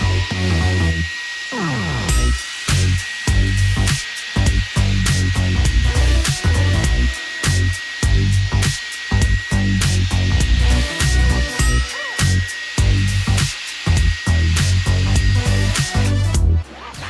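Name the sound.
drill brush scrubbing carpet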